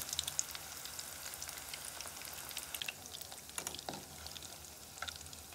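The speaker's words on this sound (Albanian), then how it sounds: "Kur e kemi vajin në temperaturë, ulim qoftet." Zucchini vegetarian meatballs fry in hot oil, making a dense, faint, continuous crackling sizzle with scattered pops throughout, heard up close with no voices.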